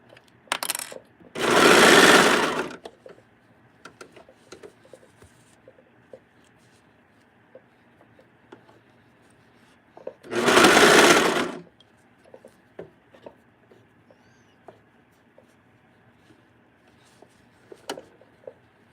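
A sewing machine stitches a neckband onto a knit shirt in two short bursts of rapid mechanical whirring, each about a second long, separated by quiet handling noises and small clicks.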